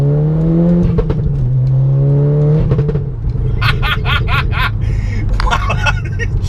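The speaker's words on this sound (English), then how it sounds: "as you can hear behind me, has a completely custom PowerFlex exhaust system" An Audi 8P S3 manual engine idles with a deep, loud rumble from a custom Powerflex exhaust with almost no resonance, revving up in a couple of bursts, with background chatter and a few sharp clicks.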